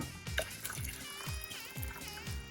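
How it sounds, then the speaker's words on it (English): Water, 250 ml, is poured into a pan while making gravy for Chinese tender pork, a steady splashing trickle with a few soft, repeating glugs, close and fairly quiet. "To this, I'm going to add 250 millilitres of water."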